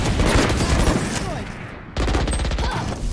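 Rapid gunfire bursts from the Valorant video game, dense and continuous under players' voice chat, with a brief break before firing resumes.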